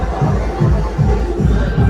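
A dense crowd at a village palkhi procession fair, a loud steady murmur of many voices with a low rhythmic throb, like distant drumming, pulsing underneath.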